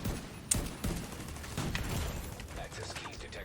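Gunfire in The Division 2: scattered shots and short bursts, mid-distance and partly masked, while someone talks over them.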